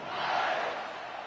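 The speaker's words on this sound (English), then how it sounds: "this crowd is feeling themselves after that last drive" A stadium crowd roars in an NCAA 26 college football video game between Texas and Virginia Tech, a brief swell of cheering at moderate distance that rises and then fades slightly.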